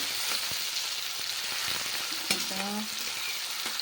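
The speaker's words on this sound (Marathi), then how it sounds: "कांदा भाजून घेतला टोमॅटो टाकला" Onion and tomato fry in a pan, a steady close sizzle broken by occasional soft scraping knocks of stirring.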